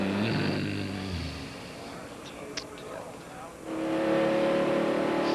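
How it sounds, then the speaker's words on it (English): NASCAR Busch Grand National race cars at Charlotte pass on track at pit road speed behind a pace car, a steady engine drone that dips and then swells again as they go by, with a commentator talking over it. "Pace car runs 60 because of the dog leg. Race cars run 55."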